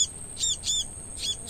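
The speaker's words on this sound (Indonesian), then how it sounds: "Ini namanya burung perenjak semua, Bos" A prinia (prenjak) bird calls outdoors with three or four thin, high chirps, clear and fairly close, with no one talking.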